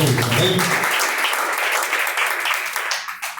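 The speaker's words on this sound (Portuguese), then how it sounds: "as palmas que louvam a Deus em nome do Senhor Jesus" A church congregation claps in praise during a live worship service, a dense burst of hand-clapping under a preacher's voice that gradually thins toward the end.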